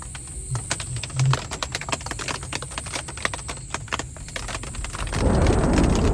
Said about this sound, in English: Turns out it was just rain.